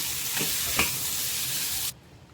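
Boiled potatoes and fresh coriander are mixed in a pan with the flame off, making a soft hiss with two quiet scrapes early on before the sound cuts off abruptly near the end.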